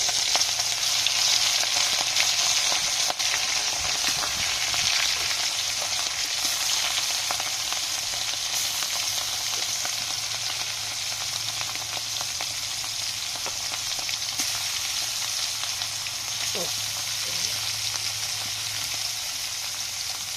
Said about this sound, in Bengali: তেল দিয়ে দিছি, মাছটি ভেজে নিই